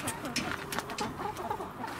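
A flock of communal backyard chickens cluck and squawk up close in a farmyard run, busy overlapping calls with a person's voice mixed in among them.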